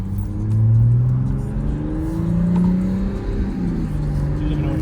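Infiniti Q60 Red Sport with an ARK Grip catback exhaust, close and loud, its engine revving up in a rising surge, easing, then swelling again before settling into a strong, droning idle.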